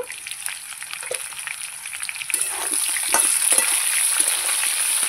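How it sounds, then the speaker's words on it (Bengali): Potato and green banana pieces fry in a pan, a soft sizzling hiss that grows steadier and louder partway through, with a few faint clinks and movements. "আলু আর কাঁচকলা ভালো করে ভেজে নেব।"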